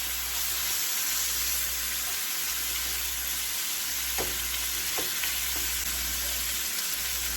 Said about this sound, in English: I'm just putting my jalapeno in there and let it fry with my bacon